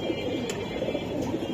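Giribaz pigeons kept for sale coo in a soft, low, continuous murmur over a short stretch, close by and with no voices.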